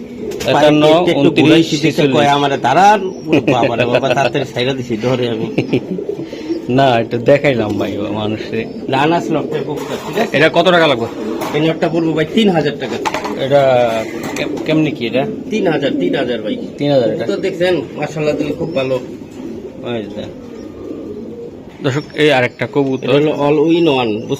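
Racing pigeons from various clubs coo repeatedly at close range in a loft, their soft calls running beneath near-constant men's conversation.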